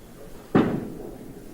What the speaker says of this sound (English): She knocks down 9, leaving the 5-pin.